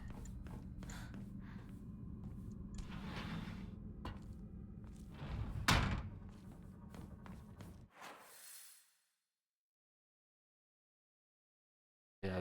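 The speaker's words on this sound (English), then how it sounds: "I guess we could go open that bird door now." A bird-shaped door swings open in the horror game Silent Hill f: a sharp, loud mechanical burst rises over a murky game ambience, trails off into a low rumble, then drops to near silence.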